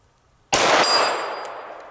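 A single Canik SFx Rival handgun shot fires at an outdoor range, with a sharp, loud crack followed by a ringing metallic decay that fades over about a second.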